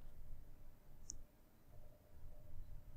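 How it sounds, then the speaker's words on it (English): A single sharp mouse click on a download button, quiet and close against a low steady background hum. "You can simply click on this download button"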